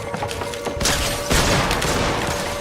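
Gunfire in the Fortnite video game sounds as bursts of close shots in a busy, loud stretch with two sharp blasts and a steady tone running underneath.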